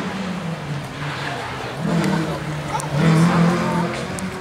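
A rally car pulls away from the start at the Rajd Magnolii rally near Szczecin, its engine rising in two revving surges over steady mechanical drone, close and loud, with a commentator's voice nearby.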